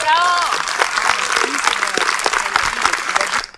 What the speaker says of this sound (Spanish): Les pido con el corazón otro bello aplauso para la actriz Nora de la Cruz.